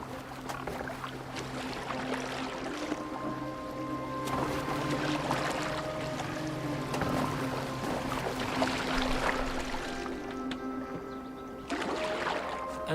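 A boat moving across water in the video game Assassin's Creed Valhalla, with a steady wash of water and hull noise plus a low sustained hum running through, soft and continuous.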